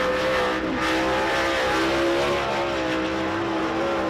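A dirt track race car rolls onto a county speedway and accelerates hard, its engine a loud, sustained roar with rising revs, close by and continuous.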